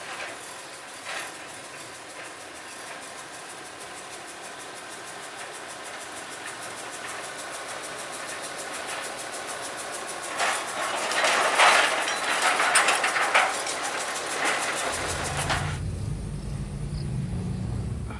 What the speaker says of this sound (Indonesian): ini adalah awal dilewati kereta lori di tahun 2021 ini